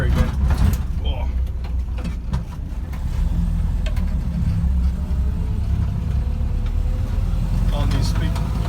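A Land Rover Series 3 under restoration drives along with its engine running as a steady low rumble throughout, with a gearbox vibration and rattles from the cab.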